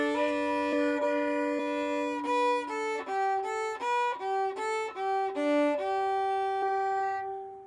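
Solo fiddle plays a phrase of the tune Driftless Hoedown that includes an A grace note leading into B, starting with longer bowed notes and then moving into a quicker run of separated notes, close and unaccompanied.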